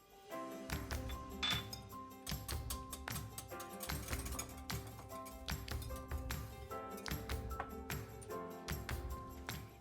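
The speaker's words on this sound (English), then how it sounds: "we can add the softened butter and continue to whisk until the mixture is" A whisk clinks steadily against a bowl while softened butter is worked into cream horn filling, the close, bright taps repeating in a busy, uneven rhythm with no talking.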